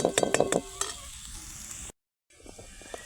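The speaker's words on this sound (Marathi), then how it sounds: "आपले मसाले चांगले परतून घ्यायचे" Spices and onion fry in oil in a pan for a whole masoor curry while a spoon stirs, with clattering scrapes and a soft sizzle close by, broken by a short gap of silence before the stirring resumes.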